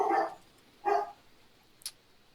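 A dog barks outside a house: two distinct barks about a second apart, followed by a brief higher yip, moderately close against quiet background.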